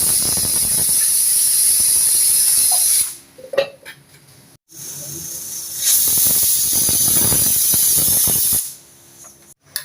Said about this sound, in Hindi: कुकर में गाइस हमारी 2 सीटी आ चुकी हैं।